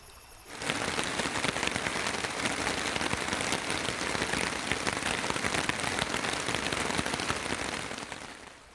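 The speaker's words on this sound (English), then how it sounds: "I was not expecting it to rain last night." Steady rain falls on a campsite at night, a dense, even hiss of drops on surfaces that starts abruptly and continues unbroken and close throughout.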